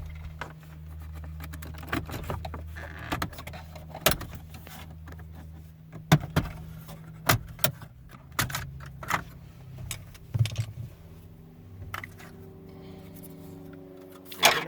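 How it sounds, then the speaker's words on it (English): Plastic bezel being pried off around the radio of a 2015 Toyota Prius, a series of sharp snaps and clicks scattered over a low steady hum, with rattling handling noises between pops. "And then you pop the bezel around the radio."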